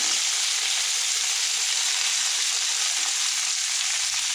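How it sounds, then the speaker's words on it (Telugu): Coriander and mint leaves fry in hot oil, giving a steady, close, hissing sizzle that runs unbroken for a few seconds with no voices. "మెత్తగా అయ్యేంత వరకు ఫ్రై చేసుకోవాలి."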